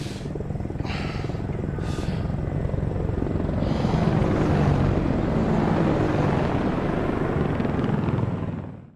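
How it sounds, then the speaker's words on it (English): Helicopter squads fly steadily in the Ace Combat video game, a loud continuous rotor and engine drone holding throughout, with a few brief bursts early on before fading at the very end. "The helicopter squads of Nomad and Shooter made it to East Africa."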